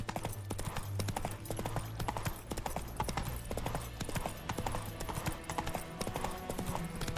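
Roach the horse's hoofbeats from the Witcher 3 game, a steady, rapid clip-clop of galloping over continuous ambient game sound, moderately loud and close throughout.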